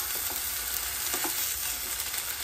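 Flatbread sizzling steadily in a pan after being flipped, a continuous crackling hiss with a few soft clicks, close and even throughout.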